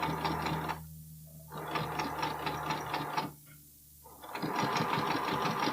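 A sewing machine stitches bralette lining in three loud, fast bursts of whirring needle strokes, separated by short pauses where a low motor hum lingers.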